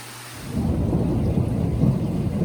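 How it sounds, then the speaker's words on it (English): Deep, sustained rumble of thunder rolling steadily, with a dense wash of low noise like heavy rain underneath. "Listen to this thunder, guys."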